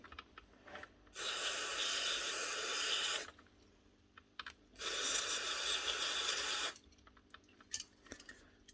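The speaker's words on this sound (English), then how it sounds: "Electrical contact cleaner is all you need. Spray it on, a good dose of it." Two long, loud bursts of aerosol electrical contact cleaner hiss onto a power tool being repaired, each lasting about two seconds, with small clicks and handling noises in the quiet gaps.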